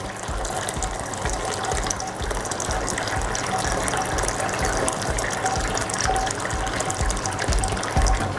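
Hot sparge water at 75 °C pours steadily over the grain bed while home brewing beer, a continuous close gushing splash that holds an even level throughout, with no talking.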